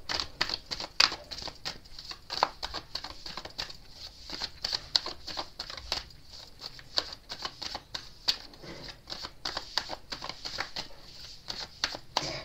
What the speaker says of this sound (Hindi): आपके सामने ही कार्ड्स में शफल करूँगी